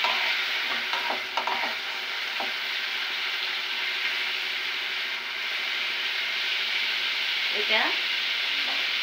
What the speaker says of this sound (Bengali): তাহলে এটা আমরা ভাজি করে নিই।